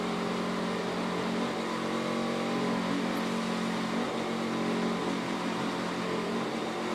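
NASCAR Sprint Cup race cars circling slowly under caution before a restart, a steady, continuous engine drone from the field, moderately loud with no talk.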